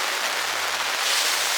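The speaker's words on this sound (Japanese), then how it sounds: "雨すごいけど大丈夫かな。" Heavy rain pounding a camping tent in a downpour, a dense, steady hiss of drops close around, with strong wind, no speech over it.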